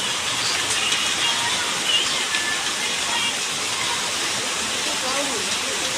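Dense, hissing downpour of heavy rain with runoff streaming over the road surface, a steady close wash of noise that never lets up across the whole stretch.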